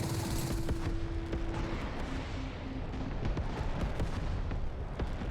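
A jet's cannon in the Metalstorm air-combat game fires in dense, rumbling bursts, loud and continuous, with engine roar beneath and no talk.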